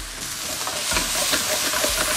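Water and soy-seasoned pickled mustard greens simmer and sizzle in a pan, a steady bubbling hiss with occasional stirring scrapes, close and continuous with no talk.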